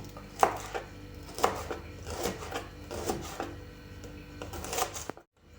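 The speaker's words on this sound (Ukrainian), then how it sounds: "Тридцять грам зелені цибулі нарізаємо дрібненько." Knife chopping green onions finely on a board for a young cabbage salad, with a handful of crisp, separate cuts at an irregular pace, fairly close and alone.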